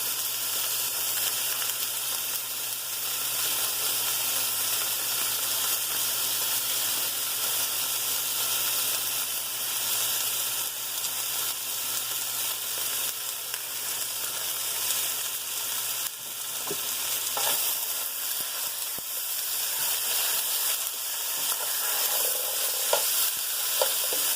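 One pound of ground beef fries in a pot with a constant hissing sizzle and occasional stirring scrapes, steady and close for the whole stretch, with no voices.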